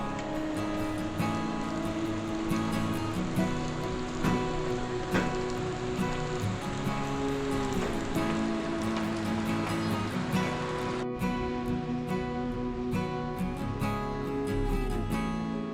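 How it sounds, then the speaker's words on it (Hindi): Steady rain falls in the morning in the Soor valley around Pithoragarh, a continuous dense hiss with scattered drops and a low rumble underneath, unbroken throughout. "सुबह देखा तो बारिश अभी भी हो रही थी"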